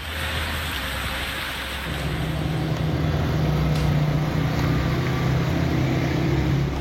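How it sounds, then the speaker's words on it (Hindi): Stormy monsoon rain with strong winds in Sialkot, a steady roaring wash of wind and rain with a low rumble underneath, loud and continuous throughout. "सियालकोट में तेज हवाओं के साथ तूफानी बारिश।"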